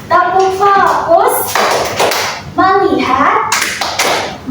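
Primary school class performing the 'tepuk fokus' clap chant, rhythmic hand claps and taps mixed with children's voices chanting along, loud and close with a teacher's voice leading.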